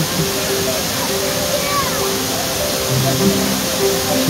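Steady roar of the Namaste waterfall near Bhedetar, Nepal, loud and continuous throughout, with faint voices in the background.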